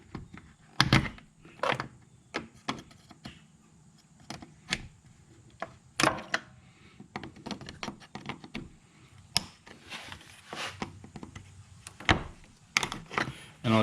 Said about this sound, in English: This is a door panel tool. Pry them out quite easily.